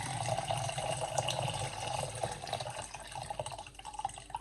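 Water poured from a jug into a container for a venison pastrami brine, a soft continuous trickling and splashing, faint and close, with no talk.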